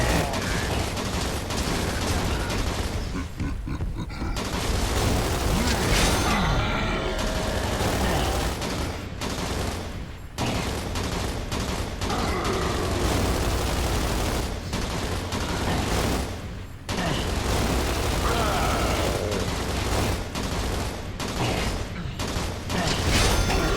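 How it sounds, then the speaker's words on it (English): Turret gunfire in a Gears of War 3 Horde match, a loud sustained fusillade of rapid mechanical shots running nearly continuously, broken by a few brief pauses between bursts. "Let's just get him taken care of with the turret here."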